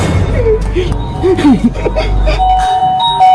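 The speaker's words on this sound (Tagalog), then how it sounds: "Tumunog yung doorbell!" A doorbell chimes in a melodic ding-dong sequence, loud and close, with excited voices overlapping the tones.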